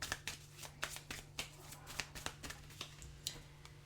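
Tarot cards being shuffled close up, a quick string of soft, crisp riffling taps over a low steady hum, fairly quiet.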